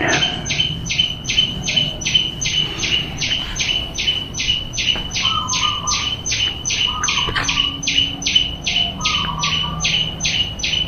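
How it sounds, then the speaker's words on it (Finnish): A bird gives a fast, regular series of harsh squawks, about two a second, loud and close, while fainter chirps from other birds sound underneath. "Siellä jotain toista lintua vetuuttaa"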